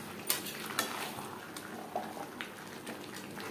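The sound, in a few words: stirring chicken and potatoes in a pot for biryani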